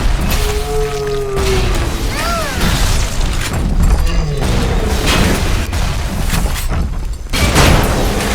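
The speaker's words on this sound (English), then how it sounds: "Yeah, these are grenades." Grenades explode in Bioshock Remastered, a series of heavy booms and thumps mixed with dense game effects and mechanical clatter, loud and continuous across the scene.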